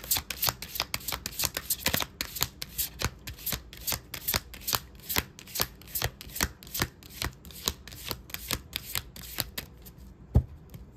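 Tarot cards being shuffled over and over, a rapid series of crisp riffles and slaps in a steady rhythm, close and fairly loud.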